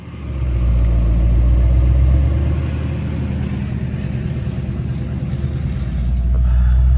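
A 1989 Chevrolet S10 truck drives along with a loud, steady low engine rumble and road noise close up, holding constant throughout with a slight swell at the end; no one speaks.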